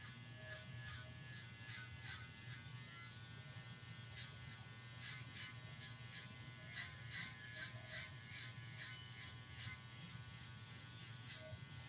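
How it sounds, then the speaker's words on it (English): An electric hair clipper, blade fully open, buzzes steadily while cutting a fade, its low hum constant under repeated brighter bursts as strokes pass through the hair. "and this clipper is fully open."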